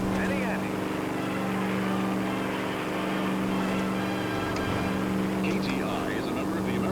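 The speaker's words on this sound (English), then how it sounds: "I wish we could hear that radio over the sound of this engine." Steady car engine from the L.A. Noire video game hums low and even throughout, with voices talking over the constant drone.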